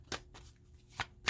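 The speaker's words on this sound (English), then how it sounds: "we're going to shuffle a couple more times" A deck of oracle cards being shuffled by hand, three or four soft papery riffles spaced apart, close and quiet with no talking.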